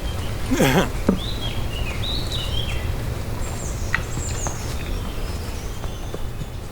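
Short chirping bird calls outdoors in New York, a few rising tweets scattered through steady outdoor background noise, with a brief louder knock near the start.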